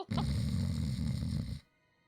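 A voice imitates a deep, rattling snore in one long, loud breath lasting over a second, then trails into quiet.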